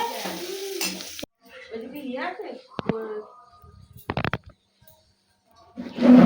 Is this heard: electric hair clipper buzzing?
no